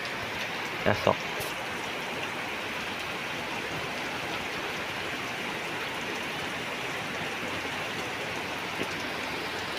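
Rain falls steadily as an even, continuous hiss for the whole stretch, with a couple of brief clicks early on and no clear talk over it.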